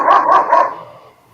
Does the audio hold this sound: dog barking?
yes